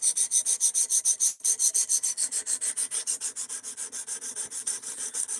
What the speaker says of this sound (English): We're sharpening a knife right now.